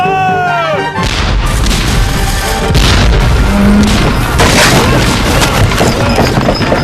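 Wooden ship's grating smashing through during a naval battle with cannon fire, heavy booms and crashing impacts filling the scene, loud and close, with shouting voices mixed in.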